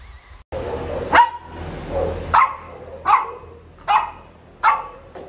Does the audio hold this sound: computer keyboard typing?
no